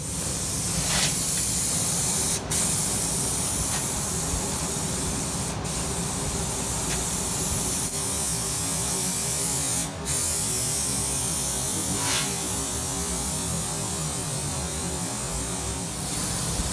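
Aerosol glue sprayed from a can while fitting vinyl headliner and rear cab panels in a 1967 Ford pickup; a steady, close hiss runs almost nonstop, broken by a few very brief pauses between bursts.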